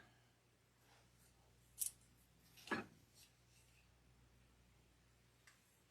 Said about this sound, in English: I'm just going to snip it out right in there.